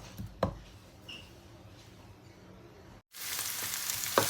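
Chili and green onion frying in oil in a pan, a faint crackle with a few clicks at first, then a loud bright sizzle bursting in after a brief silence near the end.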